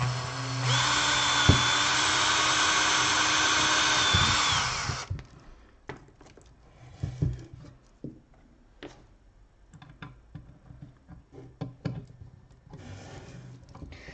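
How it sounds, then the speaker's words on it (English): A power drill whines loudly and steadily for about five seconds while boring the second hole in a homemade soap cutter, then stops, followed by scattered clicks and handling noises. "Now it's easier to drill the second hole because the first one will just keep it straight there."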